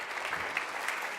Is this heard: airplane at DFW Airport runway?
no